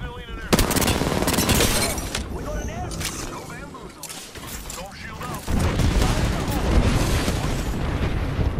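Rapid bursts of automatic gunfire and heavy booms from a shooter video game in a ranked match, loud and nearly continuous, with a voice talking over the battle.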